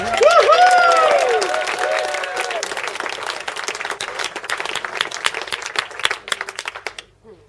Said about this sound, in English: You can please all give a big round of applause for your best men, Giles and Willie.